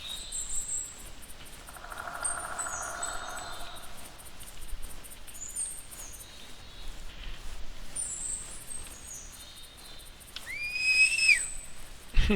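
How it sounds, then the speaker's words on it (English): In theHunter video game, a brief rising two-tone hunting whistle call rings out near the end over a faint outdoor ambience of insects and soft rustling. "whistling to startle the animal to get them to stop for a second when they're walking so you can get a shot"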